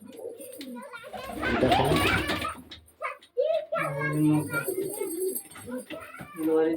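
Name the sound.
pigeons cooing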